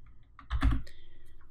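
A few quick keystrokes on a computer keyboard, a short cluster of close, soft clicks in a quiet room.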